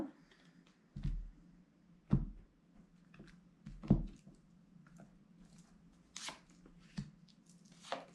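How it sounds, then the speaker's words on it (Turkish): Tarot cards are shuffled in short bursts: several separate soft slaps and riffles, with quiet papery rustling between them, close and fairly faint, with no talking. "Kartları karıştırıp senin için 3 tane kart seçeceğim şimdi."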